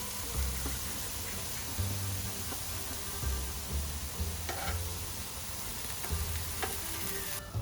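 Mushrooms sizzle and fry in a pan at a steady close hiss while being stirred and turned, with occasional soft scrapes and clicks; no one speaks.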